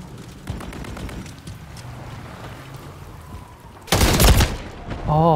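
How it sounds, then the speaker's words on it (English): Battle rifle fire in a video game erupts in a loud, dense burst of shots after a stretch of lower rumbling ambience, followed by more game noise and a rising electronic tone. "it's one of them battle rifle type guns"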